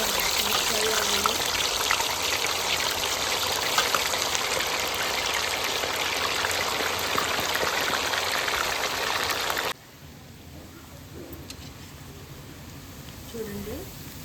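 Chicken pieces for pickle sizzle in hot oil, a dense, steady frying hiss that drops suddenly to a quieter bubbling, with a voice talking faintly over it.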